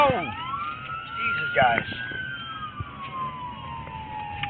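An ambulance siren wails past in the street during the Las Vegas shooting response, sweeping up and down and fading as it moves away, while someone speaks briefly under it.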